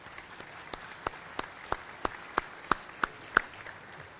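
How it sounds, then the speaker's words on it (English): Sparse, evenly spaced claps ring out at an awards luncheon of a Chamber of Commerce, each sharp hand clap standing alone over a faint room hum rather than merging into a full ovation. "Let's give them a big round of applause"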